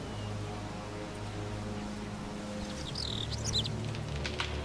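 Bird calls from the video game Drakensang, a few faint chirps and tweets over a low, steady ambient game background with no voices.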